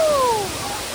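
A waterfall at a crowded hidden beauty spot roars as steady broadband noise for about a second, fairly loud and even, with a couple of faint thin whistle-like tones briefly over the top.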